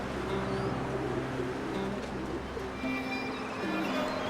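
Soft, repeated cooing of pigeons over a steady outdoor background hum, with faint chirps here and there.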